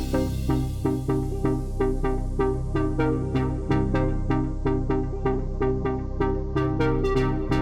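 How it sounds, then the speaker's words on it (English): A deep house build-up plays with a steady four-on-the-floor kick, repeating synth chords and rising percussion hits growing denser toward the end. "this then leads to this build-up section here"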